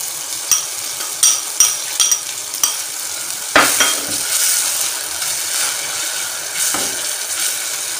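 Chicken for macaroni cooks in a pan over a medium flame with black pepper added, giving a steady sizzle broken by several sharp scrapes and clinks of a spoon stirring against the pan, close and without talk.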